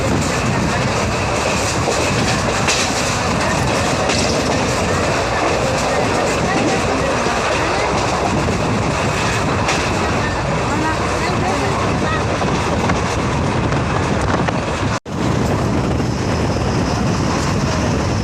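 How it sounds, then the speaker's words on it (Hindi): Passenger train on the Parbhani–Jalna line running through Pedgaon railway station without stopping, a steady loud rumble and wind rush heard from on board, continuous throughout with a brief dropout near the end. "तो हमारी ट्रेन पेड़गांव रेलवे स्टेशन को भी स्किप करके निकल गई"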